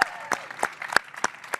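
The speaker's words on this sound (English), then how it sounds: "a show of applause" Convention audience at a live show breaks into a short burst of applause, with quick rhythmic claps close by and a murmuring crowd behind.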